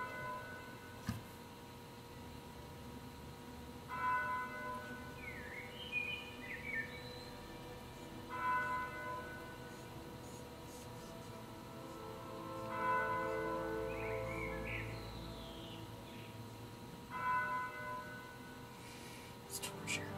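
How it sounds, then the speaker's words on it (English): Distant church bells chiming the hour in the video game The Lion's Song, four faint evenly spaced tolls ringing out over a soft sustained musical background. "Distant church bells chime the hour."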